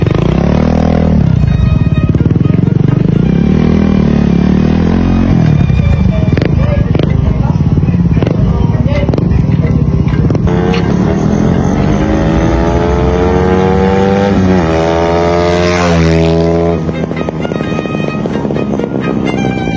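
A Smash motorcycle engine, still being broken in, runs steadily for the whole stretch, rising and falling in pitch with revs, while someone talks over it.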